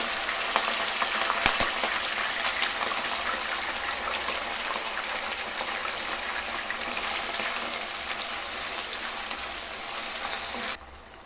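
Steady, dense sizzling of washed chicken frying in hot oil, continuous crackle and hiss throughout, with no talking; it cuts off abruptly near the end.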